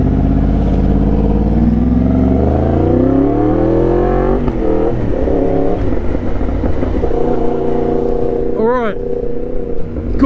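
Yamaha MT-10 motorcycle engine revving and changing pitch through gears in road traffic, loud and close, while a heavy truck rumbles past nearby; a rider talks over it.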